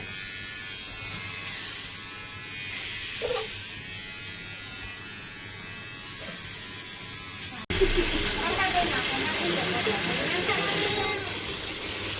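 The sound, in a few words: electric hair clipper shaving a boy's head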